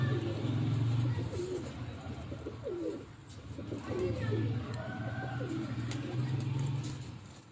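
Pigeons at a rooftop loft coo in low, rolling phrases that repeat throughout, fairly close, with a steady murmur of other birds and faint background noise.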